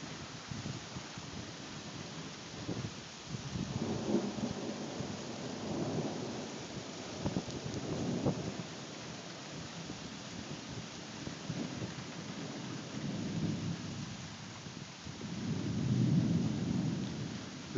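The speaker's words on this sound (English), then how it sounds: "We've had a strong thunderstorm like this every afternoon for the last week." A strong afternoon thunderstorm rolls through with steady heavy rain and repeated deep rumbles of thunder swelling and fading, the loudest roll near the end.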